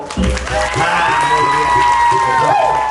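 Crowd at a temple fair comedy show in Thailand clapping and cheering for a young contestant, loud sustained applause mixed with crowd noise and some voices.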